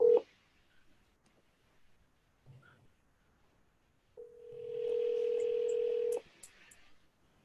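On a live call, a telephone dials and rings, with short tones followed by a sustained steady tone and a few brief beeps. The sounds are faint and close, with no talking.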